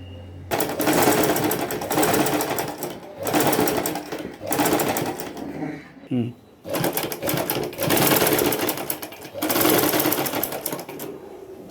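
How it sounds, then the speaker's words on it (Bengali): Bursts of rapid sewing-machine stitching on fabric for a boat neck design repeat in several long runs with a brief pause in the middle, while someone talks over the clatter. "এভাবে সেলাই করে নেব"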